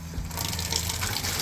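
Water runs from an RV shower during a bleach sanitizing of the fresh water system, a steady close splashing gush with a low rumble and no voices.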